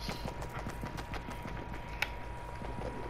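Horse hooves clip-clop in a steady walking rhythm through a video game, fairly close and continuous under a low hum, with a sharp knock partway through.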